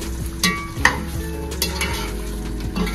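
Ground spices being stirred into a frying pan for home-cooked chicken biryani, a steady sizzle under scraping spoon strokes and a few sharp clinks against the pan, close and continuous.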